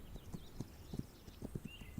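Horses' hooves clip-clop in the video game This Land is My Land, a quick irregular patter of soft thuds from several riders at moderate distance, with faint ambient tones above.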